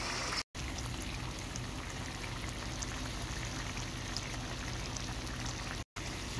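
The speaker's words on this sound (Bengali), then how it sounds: "এখন আমি অ্যাড করব পানি।" Water is added to frying beef in oil for beef karahi, giving a soft, steady bubbling hiss from the pan, fairly quiet and broken by two brief dropouts.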